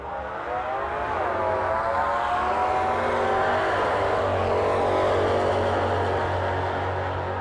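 A 1968 Dodge Dart and a 1974 Plymouth Duster roar down a drag strip, engines droning loud and steady with rising revs, the sound swelling as they pull away.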